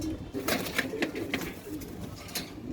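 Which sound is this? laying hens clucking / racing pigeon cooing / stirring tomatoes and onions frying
racing pigeon cooing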